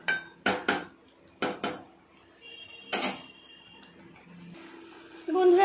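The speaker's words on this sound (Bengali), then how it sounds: "এইবার আমি এইভাবে একটুখানি কষিয়ে নেব হালকা করে।" Mutton curry being stirred and sautéed in a pan, with several sharp metal spoon-on-pan scrapes and clanks in quick pairs, then a quieter stretch and a louder clatter at the end; no speech.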